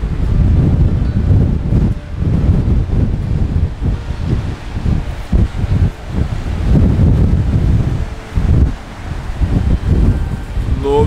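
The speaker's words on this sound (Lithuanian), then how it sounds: "vėjukas rimtas" Strong wind gusts outdoors in Wellington, roaring and buffeting the microphone in loud, uneven surges and brief lulls throughout.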